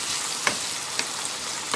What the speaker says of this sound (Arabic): كده معايا البصلة والثوم، هنقوم نازلين على طول بالطماطم